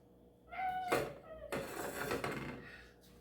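Pet cats scuffling in a kitchen, with a drawn-out meow, rattling and clattering against dishes and pans, moderately close and brief with no talking.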